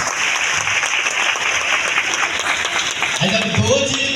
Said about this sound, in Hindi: ताली आप सभी के लिए।